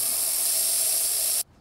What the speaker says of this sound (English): Bug spray.